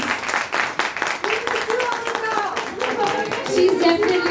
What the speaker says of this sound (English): can we have a loud round of applause for her, please?